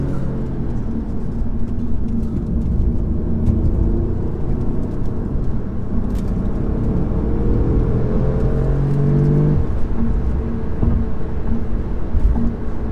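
A 2019 Audi S3 saloon's engine rumbles and drones continuously from inside the cabin, the exhaust note rising and falling as it accelerates, with no talking; the exhaust has an opening valve.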